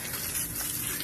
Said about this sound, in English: I'm going to turn the water back on and begin filling this pond back up